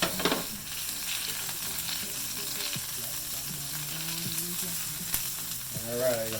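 Tuna searing in a hot pan for sweet and spicy tuna tacos, a low steady sizzle with a burst of sputter at the start and some clatter near the end, close and fairly quiet, no talking.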